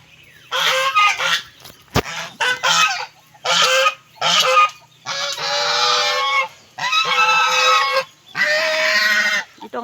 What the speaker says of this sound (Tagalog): Yan yung mga pato.